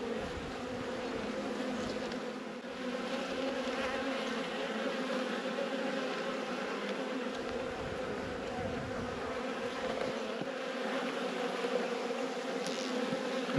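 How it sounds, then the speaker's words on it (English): Honey bees drone steadily inside an open hive during a late-season inspection, a dense, close, continuous buzz with no voices over it. "just bees hanging out in the hive"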